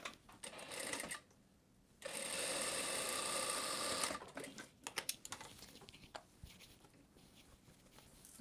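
Close and quiet, a sewing machine whirs in two bursts of fast stitching along a blouse lining seam with a one-centimetre seam allowance, separated by a brief pause and followed by soft handling clicks and fabric rustle.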